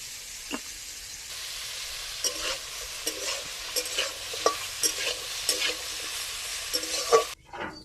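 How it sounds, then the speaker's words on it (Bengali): Bitter gourd and snake gourd fry in a pan while a utensil stirs them, giving steady sizzling with repeated scraping strokes close by, and no voices. "ভাজা হয়ে গেল উচ্ছে আর চিচিঙ্গে।"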